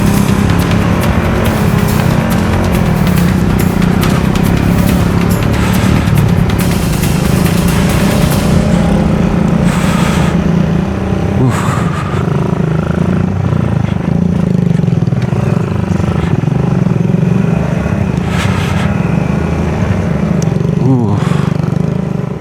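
A trail motorcycle with knobby tires rides through the sand sea at Bromo before dawn. The engine drones loud and close throughout, with a steady buzzing roar and slight shifts in revs.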